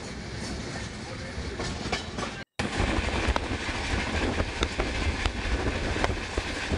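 A Shatabdi Express rushes along at speed near Nayudupeta Junction, heard from on board as a loud, continuous roar with faint rhythmic clicks of the wheels on the rails and one brief dropout.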